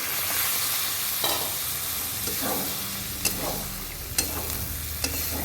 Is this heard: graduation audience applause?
no